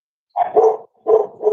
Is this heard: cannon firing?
no